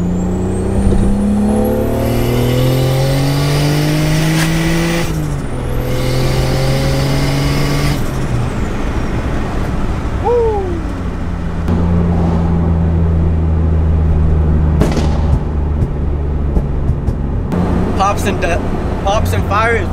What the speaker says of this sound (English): Pops and fire is what my heart desires.